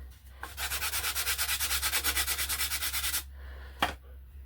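Balsa sheeting on a model RC glider is sanded smooth, a close run of rapid rhythmic rasping strokes lasting about three seconds, then a single brief scrape after a pause.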